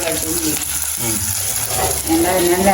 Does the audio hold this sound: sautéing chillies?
yes